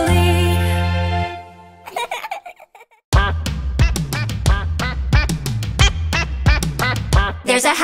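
Duck quacks in an upbeat children's song, a rhythmic run of repeated bright quacks over bouncy backing music after a brief pause, loud and close.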